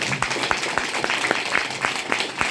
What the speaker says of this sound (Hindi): आप लोग अपने लिए एक जोरदार ताली बजाएं